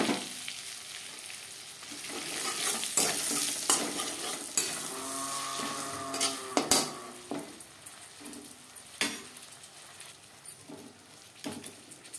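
Roasted spices sizzling in a pan over a low gas flame for a bottle gourd and tangra fish curry, a close crackling fry broken by repeated stirring scrapes and utensil knocks.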